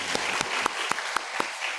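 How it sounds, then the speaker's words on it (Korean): A church congregation claps together in praise during a sermon, producing a rhythmic, evenly spaced unison clapping of about eight beats over a background of scattered applause. "다시 한번 우리에게 말씀하시는 하나님께 영광의 박수를 드리겠습니다."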